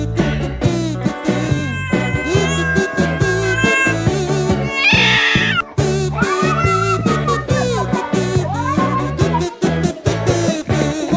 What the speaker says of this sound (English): Watch these cats experience snow for the first time.